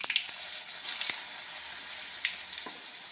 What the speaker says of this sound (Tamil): இப்போ நம்ம ஊறுகாயை போட்டுக்கலாம்.